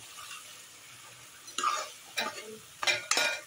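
A spoon stirs red chickpea curry masala in oil in a pan, giving a soft low sizzle broken by a few scraping clinks of utensil against the pan near the end.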